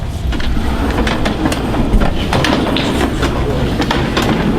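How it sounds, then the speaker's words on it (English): A train passes outside a school board meeting room, a steady loud rumble with rhythmic clicking of wheels on rails, continuous throughout without clear talk. "That train."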